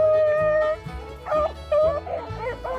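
Hunting dogs on a rabbit hunt baying and howling together while running, loud and close, in long drawn-out tonal cries with short pauses.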